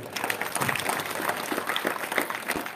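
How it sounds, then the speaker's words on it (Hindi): Applause from a large audience, many of them women, at a Hindu religious discourse on Krishna and Rama katha, a steady dense patter of clapping that holds evenly throughout without a clear peak. "सबके लिए आज फिर से तालियां हो जाए।"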